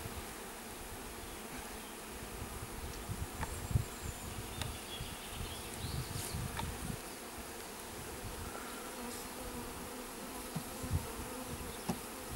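A honeybee swarm being transferred into a hive fills the air with a steady, dense buzzing of many bees, close and continuous, with occasional louder passes of single bees and no speech.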